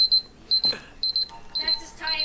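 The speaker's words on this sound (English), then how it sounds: "That's his timer." In the video game Uncharted, a timer beeps as a regular series of short, high electronic pips in pairs, repeating about every half second, mixed with brief game noises.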